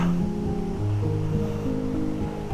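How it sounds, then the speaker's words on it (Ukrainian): Small waterfall in the Carpathian mountains, a steady rushing wash of falling water heard nearby, with a faint tonal hum over it. "Йдемо знімемо водоспадик для вас."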